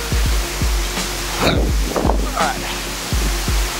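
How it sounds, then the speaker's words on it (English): A waterfall roars steadily up close in a natural setting near ferns, forming a dense, loud wash of noise, while a person speaks briefly over it with some handling knocks. "it's in front of a waterfall"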